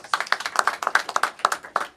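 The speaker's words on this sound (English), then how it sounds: "Everybody is clapping." An audience claps at the G20 Universities Impact Summit inaugural session, a steady run of separate, crisp claps in a quick rhythm from a modest crowd, fairly close and with no talking.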